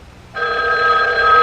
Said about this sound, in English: Answer it! I don't want him to think we've been sitting right on the phone.